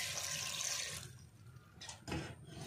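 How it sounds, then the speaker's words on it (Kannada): Water is poured into a pot of soaked chickpeas for a Tulu-style jackfruit and chickpea curry, a steady gushing splash for about a second before trailing off into faint, brief trickles. "ಒಂತೆ ನೀರು ಪಾಡೊಂದುಲ್ಲೆ"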